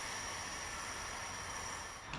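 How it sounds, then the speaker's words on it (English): A Nightjet sleeper train of nine carriages reverses into a station from the depot, producing a steady broad rumble and hiss with a faint brief squeal near the end. "the train reverses in from Matzleinsdorf depot"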